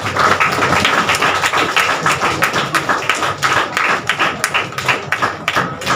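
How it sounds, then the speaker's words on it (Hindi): Dense applause from an audience at a Hindi Day celebration award ceremony in a government office hall, steady and loud clapping for award winners throughout, with no talking over it. "एक बार उनका मनोबल बढ़ाने के लिए जोरदार तालियां"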